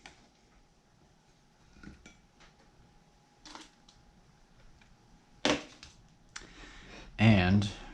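A knife cuts kielbasa on a plate, giving a few faint scrapes followed by a sharp clink and a louder clatter near the end, with quiet talk in the background.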